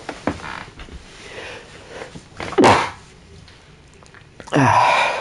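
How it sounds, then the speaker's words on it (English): A man sneezes loudly and abruptly twice, with quieter breathy inhales and gasps between the bursts, close to the microphone. "Oh boy, here comes a sneeze."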